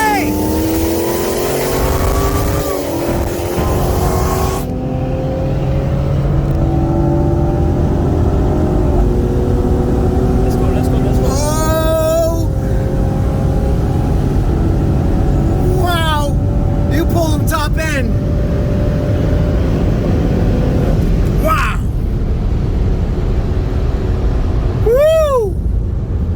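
A 2021 Dodge Challenger Hellcat Redeye and a 2020 BMW M340i with bolt-ons and E85 accelerate hard from a 60 mph roll; loud sustained engine roar with rising gear pulls and shifts, plus wind noise inside the car.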